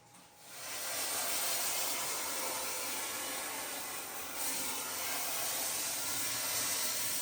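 A dry steam cleaner hisses steadily against bathroom tiles and grout, a continuous close breathy rush that rises after a soft start and holds without talk.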